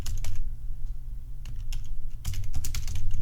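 Rapid typing on a computer keyboard, with dense clicking keystrokes in quick bursts, near and fairly loud over a steady low hum.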